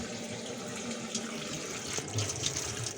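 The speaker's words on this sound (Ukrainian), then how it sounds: "Ну от зараз запустив гарячу воду і перевіряємо" Hot water runs steadily from a tap fed by an Immergas Eolo Star gas boiler under test, a continuous close hiss of flowing water with no talk over it.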